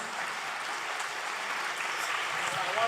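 A large audience applauds steadily during a memento presentation at a Brahmin global meet, continuous dense clapping heard from a distance, holding an even level throughout.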